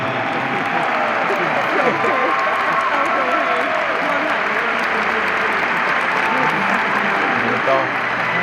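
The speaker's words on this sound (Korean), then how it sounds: "다시 한번 큰 박수 부탁드리겠습니다." Stadium crowd applauds Jesse Lingard at his farewell as captain, a loud, dense, continuous roar of clapping and crowd noise with voices mixed in.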